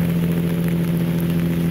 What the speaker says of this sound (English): somewhere between a heavy drizzle and a medium rain